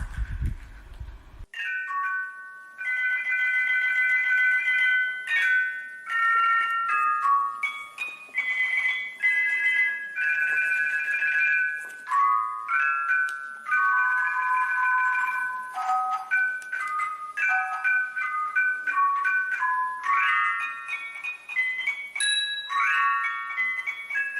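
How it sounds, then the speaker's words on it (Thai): A Thai khong wong lek, the small circle of tuned gongs, plays a rapid bright melody of ringing metallic notes in continuous runs, clear and close, after a brief low thump at the start. "นี่เป็นเสียงคล้องวงเล็กนะคะ"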